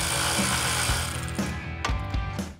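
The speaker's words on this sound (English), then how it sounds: "Get them old rusty bolts off." A ratchet working old rusty bolts off a truck during an engine modification, rapid clicking pawl bursts in several short runs with tool clatter between them, close and fairly loud.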